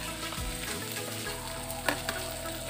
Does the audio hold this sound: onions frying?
yes